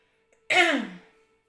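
A woman with a cold clears her throat once in a short, rough burst that trails into a cough, loud and close after a moment of silence.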